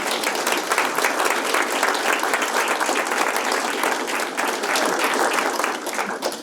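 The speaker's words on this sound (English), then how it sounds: "Please join me in applause for all of them." Sustained, dense applause from the audience at a candidate forum, a loud continuous wash of many hands clapping at an even level from start to finish, with no voices over it.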